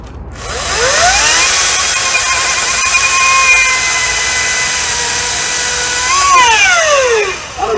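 A Ryobi battery chainsaw cutting through wood, a loud, close high-pitched whine that winds up, holds steady under load through the cut, then winds down at the end.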